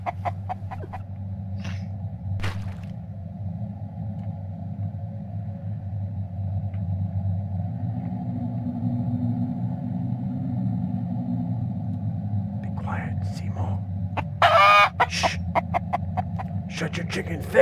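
Chickens cluck in the survival game Mist Survival over a steady low engine-like rumble, with scattered clucks early on and a louder burst of clucking near the end.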